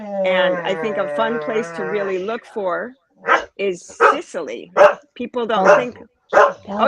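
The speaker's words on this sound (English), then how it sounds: "dog barking. That's my dog." A pet dog barks and whines loudly in a home during a podcast chat, its drawn-out vocalising up front, then people talk over shorter yelps.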